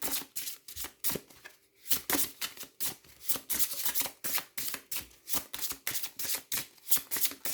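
A deck of cards is shuffled close up in rapid repeated riffles, crisp rhythmic bursts following one another steadily with brief pauses; no voices.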